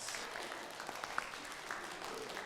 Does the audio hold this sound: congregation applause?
yes